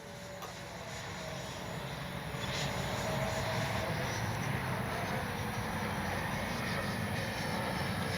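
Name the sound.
FMS Avanti S 70mm RC jet flying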